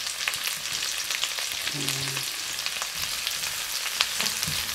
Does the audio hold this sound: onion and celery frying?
yes